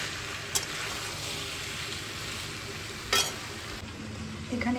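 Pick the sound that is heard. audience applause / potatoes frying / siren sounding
potatoes frying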